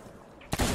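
A single loud gunshot blast cracks in Sea of Thieves, bursting in abruptly after a half-second of quiet background and ringing out briefly with a sustained tail.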